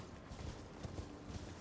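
Horse hooves clip-clop at an uneven trot on the ground in the video game Elden Ring, faint and muffled under a steady background wash, with no talk.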